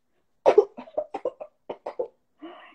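A storyteller's voice makes a quick series of about a dozen short, close coughing bursts in a rapid, uneven rhythm. The bursts imitate people coughing in a town and sit alone against silence.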